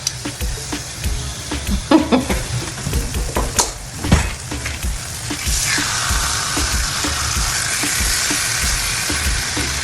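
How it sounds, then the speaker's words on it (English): Chicken pieces are dropped into an oiled pan with a few clattering thumps, then a loud, steady sizzle of frying swells and holds, close up with no talk. "I'm gonna just start frying my chicken"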